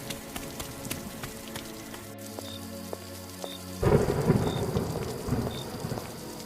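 Steady rain pours down with a low rumble of thunder rolling in partway through, a heavy stormy wash that stays fairly quiet and distant, with no voices.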